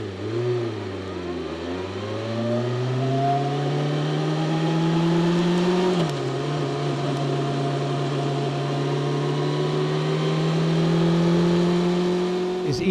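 A BMW M1000XR motorcycle ridden slowly around a gravel car park, its engine note rising and falling with throttle, a steady close mid-pitched drone with a brief dip midway, no talking.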